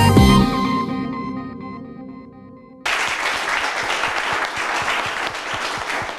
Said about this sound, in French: sous vos applaudissements publics